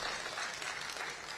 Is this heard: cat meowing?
no